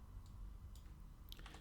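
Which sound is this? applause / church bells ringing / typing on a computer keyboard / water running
typing on a computer keyboard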